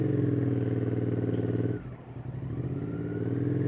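A motorcycle engine hums steadily and close while riding. It drops off briefly as the throttle eases, with a faint scrape, then picks back up to a smooth, throbbing drone.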